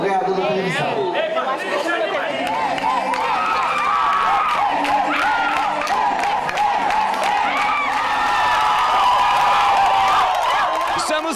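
Crowd at a festa junina arraial contest cheering and shouting continuously to pick a winner, dense and loud throughout, with chatter and a few claps mixed in.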